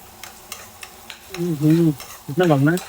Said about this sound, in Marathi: माझी फोडणी करपते तुझ्या नादात.